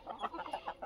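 A brown Tedhi desi hen clucks softly in a short run of quick, low, repeated clucks, faint and close, with no other sounds.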